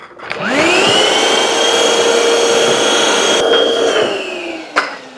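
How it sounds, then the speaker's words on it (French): A small vacuum cleaner picking up debris while a camera is installed in a Prusa printer enclosure. The motor whines up quickly, runs at a loud, steady pitch for several seconds with brief rattles as debris is sucked in, then winds down. "on va chercher un petit aspirateur avant que tout ça là aille se mettre n'importe où"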